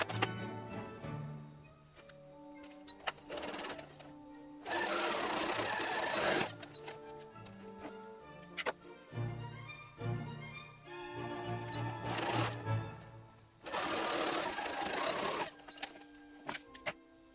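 A sewing machine stitches an Imperial officer hat in several short bursts of quiet mechanical whirring, separated by pauses and small clicks and handling noises.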